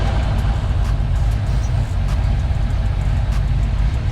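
A car engine idles steadily, with an intermittent running issue, producing a continuous low, even rumble close by with no break throughout.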